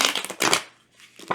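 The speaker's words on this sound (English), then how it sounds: "I'm going to shuffle it one more time." Tarot cards being shuffled by hand in short crisp riffling bursts, close and fairly loud, with a brief pause before a last quick flutter.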